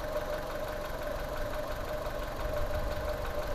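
A troublesome salvaged Fiat 500 engine idles steadily, a constant mid-pitched hum with a faint knocking texture and no voices over it.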